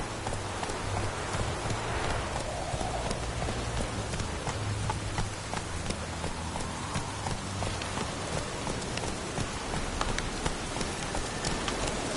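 Geralt's horse Roach from The Witcher 3 game runs with a steady clip-clop of hooves under a constant hiss of rain and low ambient drone, holding an even level throughout with no voices.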